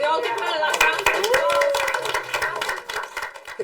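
A classroom round of applause, a burst of clapping from many hands that starts strong and thins out over a few seconds, with children's voices chattering over it.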